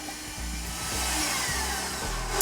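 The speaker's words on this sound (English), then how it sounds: "So we've got our wet ingredients in the mixer, so we'll go ahead and mix those up." Electric stand mixer whirring as it blends wet ingredients for pumpkin biscotti, a steady close motor drone with a low pulsing hum as the beaters turn, no voices.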